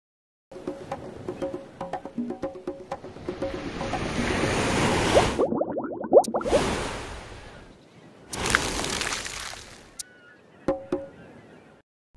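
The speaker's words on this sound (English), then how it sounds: "A wave is when the top of the water moves." Cartoon ocean waves in the children's word game Endless Alphabet, a swelling surf wash that builds, breaks with splashy whooshes, then returns in a shorter burst, with small chimes and musical blips around it.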